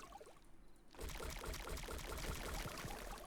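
Water pouring from rocks in Timberborn, a steady splashing, trickling stream that starts abruptly after a quiet moment and keeps flowing, faint and close, with no talk over it.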